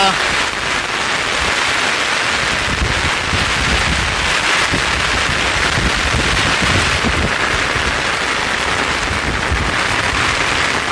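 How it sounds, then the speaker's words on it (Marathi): Heavy rain pours steadily, mixed with strong gusting wind buffeting the microphone, loud and continuous throughout. "भरपूर असा पाऊस वारा"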